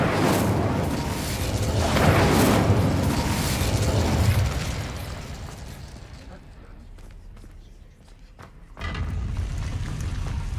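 Incendio fire spell cast in Hogwarts Legacy, a loud roaring burst of flame with rumbling booms that fades into quieter crackling, then a swell of game ambience returns.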